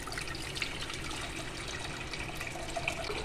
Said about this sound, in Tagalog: Ngayon ay maglagay tayo ng tubig sa ating kaldero